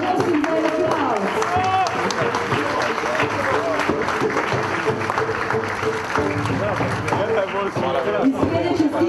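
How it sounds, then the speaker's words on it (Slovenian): Clapping rises from a gathered crowd at an outdoor opening ceremony in Ljubljana, mixed with lively chatter and voices talking throughout, fairly close and loud. "Prosim za aplavz."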